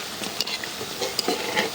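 Noodles frying in a pan while being stirred, close sizzling hiss punctuated by quick scraping and tapping strokes of the spoon, no voices.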